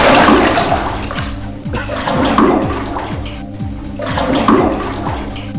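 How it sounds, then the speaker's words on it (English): Repeated loud watery splashing and churning in the Doctor Who: Destiny of the Doctors video game, surging in waves like bobbing through water, with no talk. "Let's go for a swim, Kaplonk"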